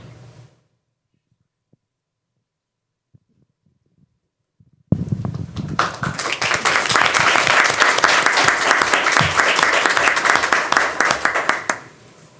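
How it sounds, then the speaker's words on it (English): Applause for students at a school teaching and learning committee meeting breaks out suddenly after a near-silent pause, a loud, full round of clapping that holds steady for about seven seconds before stopping abruptly. "I feel like we need another round of applause for just these guys."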